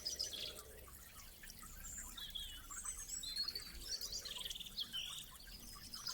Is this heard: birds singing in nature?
yes